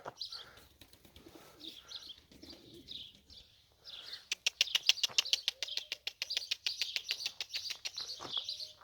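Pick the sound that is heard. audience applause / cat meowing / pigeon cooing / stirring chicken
pigeon cooing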